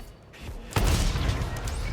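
Tank cannon fire in World of Tanks: a single heavy boom lands sharply near the middle, followed by a long rumbling tail of noise and debris that fills the rest.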